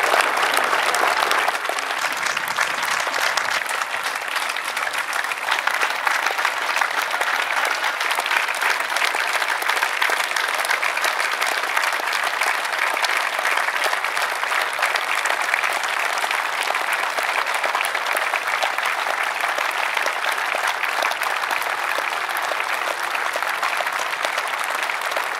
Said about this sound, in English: Everybody make some noise and clap those hands.